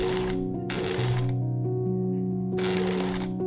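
A sewing machine stitching a French seam in white tulle fabric, with short runs of fast mechanical whirring separated by quieter pauses and a steady low background hum.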